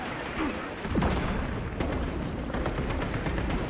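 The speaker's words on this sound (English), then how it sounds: "Using crack grenade" Crack grenade going off in Space Marine 2, a loud rumbling blast amid sustained battle noise with booming impacts and mechanical clatter, heavy and continuous with no pause.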